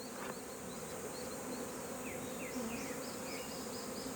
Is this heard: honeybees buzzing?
yes